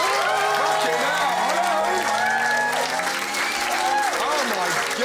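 A crowd claps steadily and loudly throughout, with several voices talking and shouting over the applause.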